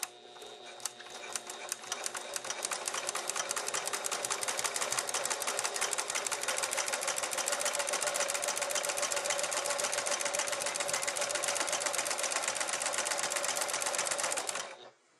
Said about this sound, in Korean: 이렇게 해서 먼저 박아 보겠습니다